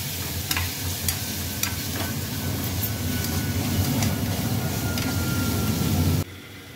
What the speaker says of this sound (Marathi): आणि मस्त आता 2 मिनिटं असा परतवायचा आहे